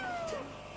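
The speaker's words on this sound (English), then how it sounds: "Are you just a cat from the streets?" A cat gives a single short, falling meow, close and fairly quiet, alone with no talking.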